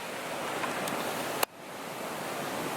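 Waterfall at Crooked Creek Falls, pouring into a deep pool, as a steady broadband rushing roar, briefly interrupted by a short dip partway through before resuming.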